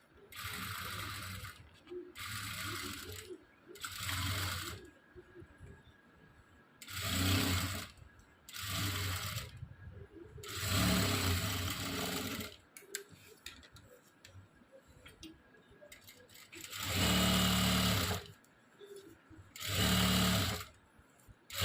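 A sewing machine runs in bursts while sewing a double stitch on a prince-cut blouse, its rapid mechanical whirring starting and stopping repeatedly with short pauses between runs.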